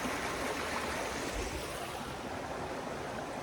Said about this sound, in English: there's icicles that are obviously coming down from water, dripping from the creek